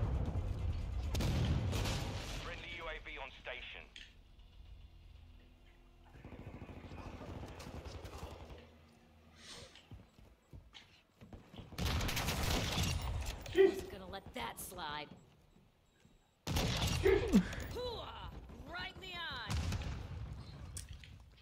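Gunfire from a weapon in a first-person shooter video game, heavy bursts of shots and booms repeating across the stretch with quieter gaps, someone talking over parts of it.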